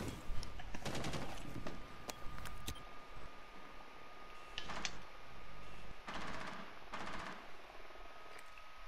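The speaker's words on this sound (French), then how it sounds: "Je tire dans le vide juste pour ce que j'aime bien le bruit de l'arme" Gunfire in Rainbow Six Siege: quick bursts of automatic weapon shots, fired into empty space, clustered near the start and returning in shorter rattles later, fairly faint against quiet game ambience.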